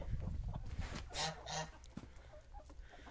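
Faint Amrox, partridge Leghorn and American bantam chickens clucking and murmuring nearby, with a few short bursts of calls over a soft, noisy farmyard background.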